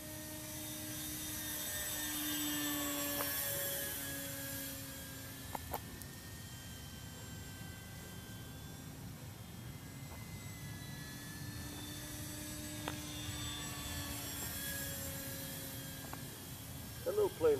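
Steady drone of a Corvalis 350 light airplane engine in flight, a continuous close hum and whine inside the cabin with a few faint clicks, no talk over it.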